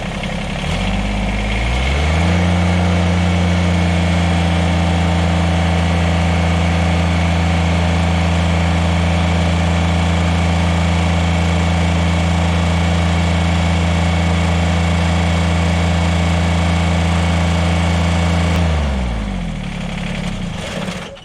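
A Kubota BX or John Deere 1-Series compact tractor engine strains under load as the loader lifts a pallet of cinder blocks to relief pressure, a loud, steady low hum that holds for about 16 seconds and then eases off.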